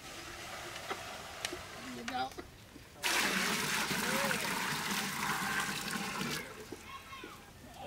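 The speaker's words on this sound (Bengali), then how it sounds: "ভাত রান্না করে পানি দিয়ে দিলাম।" Water pours onto cooked rice in a pot, a sudden rushing splash partway through that runs for a few seconds and then tapers to trickles, with quieter clatter before it.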